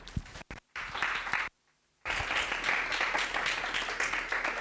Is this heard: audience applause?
yes